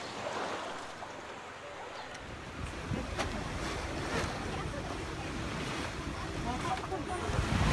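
Steady wash of ocean waves and wind around a boat off Bohol, Philippines, with a constant broadband roar and occasional low thumps toward the end.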